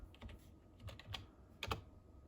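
Password keyed in on a computer keyboard during BIOS setup: a few soft, separate key taps in close succession, faint and close-up, with no talk.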